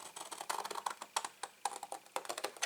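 A cardboard gift box has its score lines cut up, giving a quick run of small, crisp snipping clicks up close, faint and uneven in rhythm.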